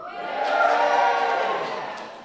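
Live audience at an outdoor Christmas carols concert cheering and shouting as one sustained wave of crowd noise, rising then fading over a couple of seconds.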